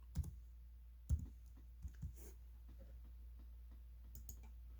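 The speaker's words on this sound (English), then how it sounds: "So we click on Marcus Stroman, and we can also view his game logs." A computer mouse clicks a handful of times while a baseball player's stats page is being browsed, giving sharp isolated taps close up with quiet pauses between and no talking.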